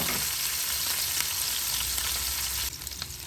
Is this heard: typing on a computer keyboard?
no